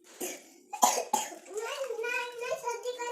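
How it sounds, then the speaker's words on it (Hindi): A child coughs sharply a few times, then a voice speaks right afterward, close and clear. "आपको खांसी आ रही है बेटा, आप मत बात करो।"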